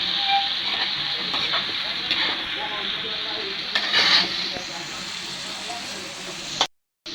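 Chopped raw fish, onion and potato pieces sizzle and hiss steadily in a hot pan, with occasional stirring scrapes and a brief louder flare of spitting oil. A voice speaks over the frying.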